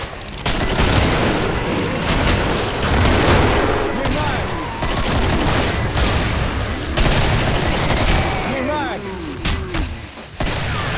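Double-barrel shotgun blasts in the Killing Floor video game, dense overlapping booms amid a chaotic firefight with other gunfire, loud and continuous, with game voices and effects mixed in.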